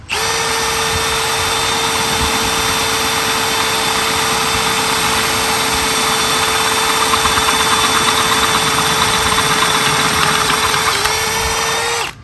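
A Milwaukee 2804-20 cordless drill turns a large bit at low speed in first gear, a steady, close, loud motor whine with a fixed pitch and gritty cutting noise underneath, running unbroken before cutting off at the end.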